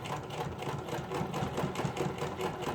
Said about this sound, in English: You want to sew right along the edge of that little pleat.